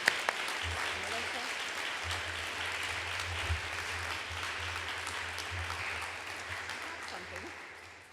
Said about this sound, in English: Give her another round of applause.